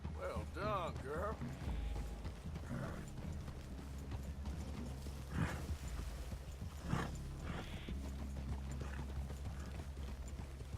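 Horse hooves clip-clop steadily in Red Dead Redemption 2, the game's riders moving through a wooded clearing. The hoofbeats run throughout, mixed with character dialogue and ambient game sound.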